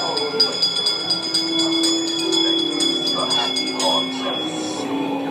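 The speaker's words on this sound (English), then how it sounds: "give us a hint by ringing the bell" A bell rings repeatedly in quick, bright strikes over a steady humming drone, continuing for several seconds.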